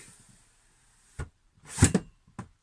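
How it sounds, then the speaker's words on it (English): A wooden sash window slides with a few short knocks and a brief rumbling scrape, fairly quiet and close, with silence between. "that is the sound of the way sash windows should work"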